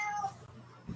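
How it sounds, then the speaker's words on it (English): A cat meows once, a short rising-and-falling cry at moderate distance indoors, followed by a brief low thump; no talk over it. "my cats have arrived."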